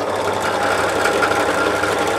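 A drill press with a sharp bit runs steadily in a workshop while a part for an e-bike trailer hitch is machined, a loud close continuous motor hum and whir with no talk.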